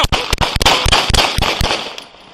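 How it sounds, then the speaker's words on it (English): Gunshots fired at police officers during an ambush in West Sacramento: a rapid volley of about a dozen sharp, loud bangs in quick irregular succession, close by, with no talk over them. "we got shots fired"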